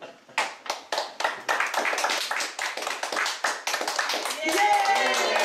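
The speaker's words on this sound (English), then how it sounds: "Do the clap again." Hand clapping at a children's birthday party: a run of sharp, evenly spaced claps close by, with cheerful voices and a child's squeal rising near the end.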